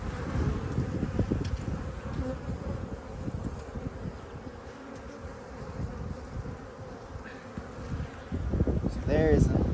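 Honeybees buzzing steadily around an open hive during an inspection, a dense, close drone with individual bees whining past, and a louder swell near the end.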